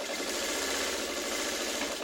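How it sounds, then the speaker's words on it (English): Sewing machine stitching pieces of a traditional quilt block, a close, steady continuous whirring hum throughout with no pauses or talk. "I'm going to sew it from this side."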